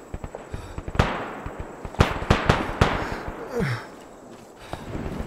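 Several sharp gunshots crack out in the Arma 3 video game, scattered irregularly with some close and loud, followed by a brief rising whine and fainter trailing pops.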